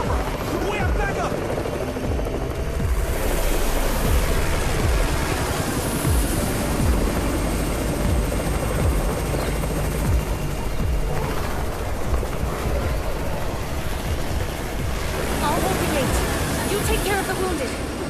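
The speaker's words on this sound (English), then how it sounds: "It's the Raven's chopper!" Helicopter flying in during a zombie siege in the video game Undawn: a steady, churning rotor drone runs throughout, mixed with crowd babble and voices.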